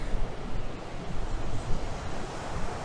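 Ocean surf at Daytona Beach rolls in as a broad, continuous wash of noise, with wind buffeting the microphone and no voices.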